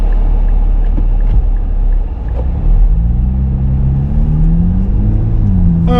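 2024 Nissan Z Nismo driving on the road, a steady deep engine rumble with a rising rev sweep as it accelerates and shifts, heard from inside the cabin.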